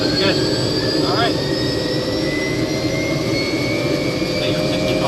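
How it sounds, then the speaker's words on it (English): A Robinson R66 helicopter's turbine engine warms up just after starting, a loud steady whine and roar with rising tonal lines, close and continuous throughout. "We've just got the engine started, the turbine is warming up for 2 minutes"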